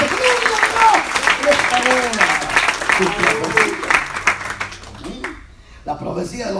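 Church congregation applauding during a sermon, brisk clapping from a crowd under a voice talking over it, the claps thinning and stopping near the end as speech carries on.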